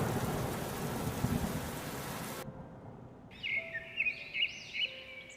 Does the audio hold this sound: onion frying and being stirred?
no